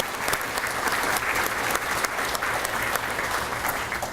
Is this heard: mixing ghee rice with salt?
no